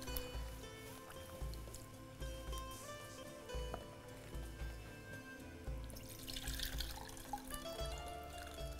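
Water sloshes and pours in a steady wet churn, with small drips and splashes, close by and fairly quiet, as grains are swirled in a bowl.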